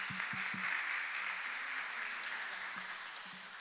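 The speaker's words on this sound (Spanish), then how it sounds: "Un aplauso, por favor." A lecture audience at a talk on new addictions and video games claps steadily, moderately distant and soft. A few low thuds sound at the start and end, and the clapping fades slightly toward the end.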